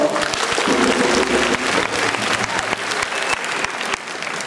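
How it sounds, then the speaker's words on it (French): Audience applause at the official launch of the CARMMA health campaign, dense and loud, sustained throughout without a break, with a few sharper claps standing out from the crowd. "je vous demande de l'applaudir très fort"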